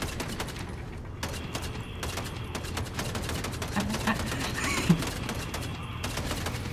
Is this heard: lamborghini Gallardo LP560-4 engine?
no